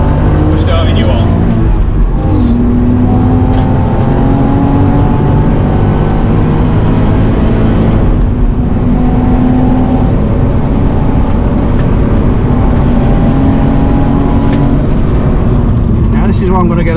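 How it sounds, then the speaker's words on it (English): Car lapping the Nürburgring track, its engine a steady loud drone with harmonic tones rising and falling as it accelerates and shifts, running continuously with a voice talking over it. "to make the best out of this car on the track"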